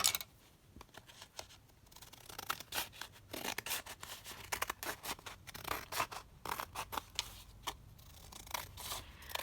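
Scissors cutting through canvas for a junk journal cover, close and quiet, a series of crisp irregular snips with papery rustling between them.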